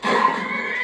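A horse in the video game Skyrim lets out a brief neigh, a short bright whinny under a second long, fairly loud against a faint background.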